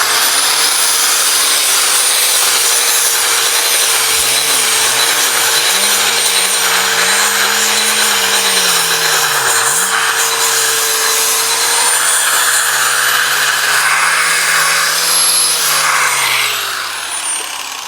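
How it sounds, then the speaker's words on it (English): A loud power grinder or sander shaping a timber frame joint, a continuous high-pitched whir whose pitch dips and wavers as it bears into the wood, steady and close throughout. "Never underestimate the power of a grinder or a sander."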